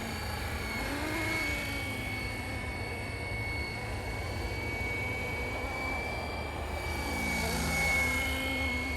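A Flywing RC helicopter flying in ATTI mode outdoors, its rotor and motor giving a steady, loud whine with a high tonal hum that holds throughout and swells slightly near the end.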